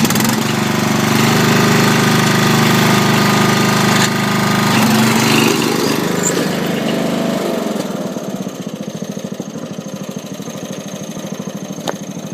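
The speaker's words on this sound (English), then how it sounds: "Oh, we're getting some weld in there." Welding repairs the deck of a 1981 Wheel Horse C-105 mower with a loud, close, continuous buzzing crackle. Near the end it turns into a rougher, sputtering pulse.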